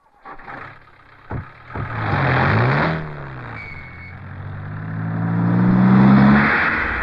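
A car engine revs up and pulls away in a Malayalam film scene, the pitch climbing in a couple of surges and then holding a steady rising drone close by, with no talk over it.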